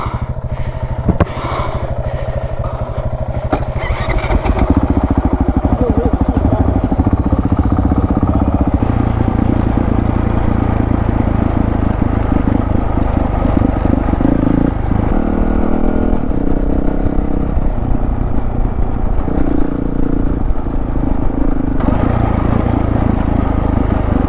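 Honda CRF450L or CRF300L style dirt bike revving and pulling away on a wharf, a loud, steady engine drone that stays close and strong throughout with shifting pitch.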